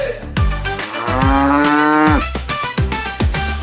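Cartoon cow in an animated Tamil children's animal song, lowing in long drawn-out moos loud and close, set against bouncy musical backing.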